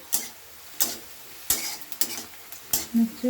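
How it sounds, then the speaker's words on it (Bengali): Onions being stirred in a frying pan for dal, with a spoon scraping the pan in separate strokes roughly every second over a low background sizzle. The strokes are close and fairly loud. "এবার আমি এটা ভালো করে নাড়িয়ে নিচ্ছি লাল লাল করে নেবো একটু পেঁয়াজের ভাতটা যেন একটু হালকা পুড়ে পুড়ে যায়"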